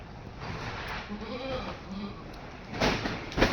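An Osmanabadi goat bleats a few wavering cries near by, with a rustling, shuffling background and a couple of louder bumps toward the end.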